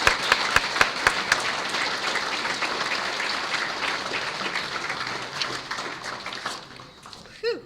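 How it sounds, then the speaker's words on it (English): Audience applause for award recipients at a university awards ceremony and sports hall of fame event, a dense, steady clapping that carries through and tapers slightly near the end. "let's give another round of applause for all the recipients tonight"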